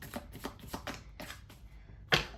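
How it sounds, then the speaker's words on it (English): Tarot cards shuffled by hand in a quiet room, a run of quick papery riffling bursts in rhythmic succession, ending in a sharper snap as the deck is squared. "One more shuffle."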